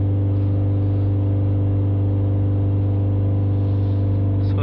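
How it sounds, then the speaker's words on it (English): A Volvo V40 engine with fault codes P00BC, P2463 and P0471 is held at raised revs, giving a steady, even mechanical drone that stays constant close by with no voices. "Let me hold the revs up a little bit longer."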